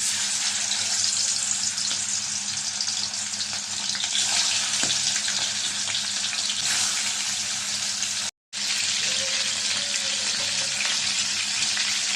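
Turmeric-coated chicken pieces frying in hot oil, a loud, steady broadband sizzle that runs unbroken for the whole stretch apart from one brief dropout near the end.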